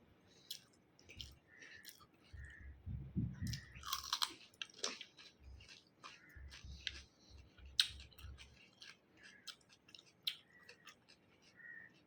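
Someone chews cucumber with hot rice close to the mic, making soft, irregular crunches and wet bites in short bursts separated by quiet pauses.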